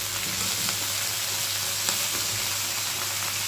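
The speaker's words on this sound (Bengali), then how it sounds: "এই তেলের মধ্যেই আমি একটুখানি সবজিটা ভেজে নিলাম" Pointed gourd and potato pieces fry in a little oil with onions already browned, a steady close sizzle and crackle with faint stirring, no voices.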